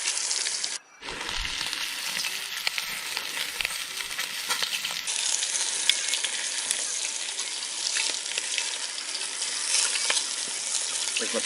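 Lamb shanks sizzle and fry in a pan at an outdoor camp cooking setup for a red wine sauce, a loud steady crackling hiss that runs throughout, with a brief dip near the start.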